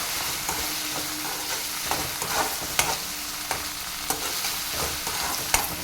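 Ginger garlic paste frying and stirred in a pan, a continuous close sizzle with repeated sharp spatula taps and scrapes against the pan, fairly loud and without talking.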